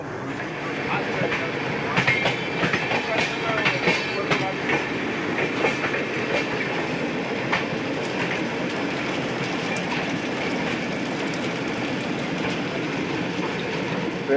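A train rumbles steadily nearby at Sandila railway station, with continuous rail and wheel noise, faint clatter, and occasional indistinct voices in the background.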